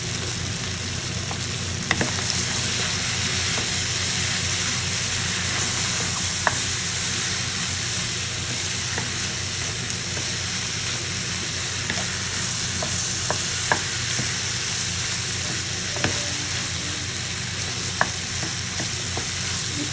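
Garlic and onion sauté in a hot pan with black pepper, giving a loud, continuous close sizzle with occasional faint clinks of a utensil, with no talking.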